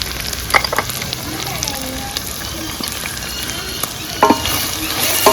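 Two tablespoons of chili powder fry and are stirred in a hot pan while tripe curry is being cooked. The oil sizzles steadily, with occasional scraping clinks of the spoon against the pan.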